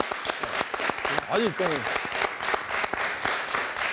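A burst of applause from a studio audience, with scattered clapping under a voice speaking over it.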